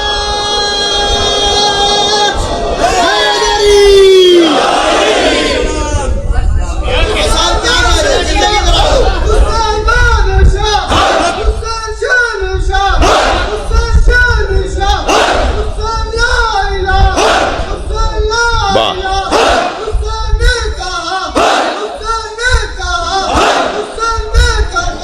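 A large crowd at a religious gathering loudly recites salawat in unison, a dense swelling chant of many voices that rises and falls in rhythmic phrases, filling the space with reverberant hubbub.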